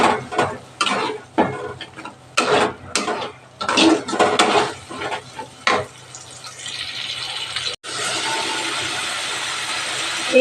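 Chili and coriander masala with cumin is stirred in a pot, a run of loud rhythmic scraping and clanking strokes of a spoon against metal, followed by a steadier sizzle, no speech.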